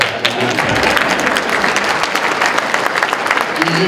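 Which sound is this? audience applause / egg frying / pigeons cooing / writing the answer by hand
audience applause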